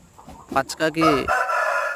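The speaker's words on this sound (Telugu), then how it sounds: "ఈరోజు మీకు కనిపిస్తున్నటువంటి కోడి మా బ్రీడర్ పచ్చకాకి" A Pacha Kaki breeder chicken clucks and calls in a short burst of squawky notes, close by, ending in a drawn-out cackle.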